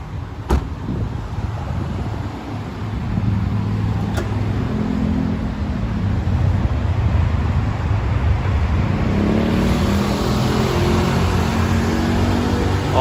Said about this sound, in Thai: สตาร์ทเครื่องได้เลยนะครับ จะได้ฟังเสียงเครื่องว่าเพราะขนาดไหนนะครับผม